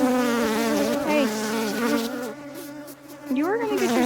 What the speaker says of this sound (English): Try to let some of these angry bees, like this one, burying itself in my microphone.